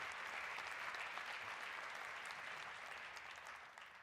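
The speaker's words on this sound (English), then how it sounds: "So pat yourselves on the back and give yourselves a round of applause" Graduates at a School of the Arts hooding ceremony applaud themselves in a steady, dense round of clapping that is fairly faint and tapers slightly at the end.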